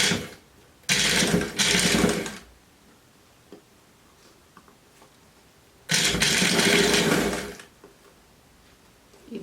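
A sewing machine stitches a cardigan seam in two loud, steady whirring runs of a second or two, separated by a quiet pause with faint handling of fabric.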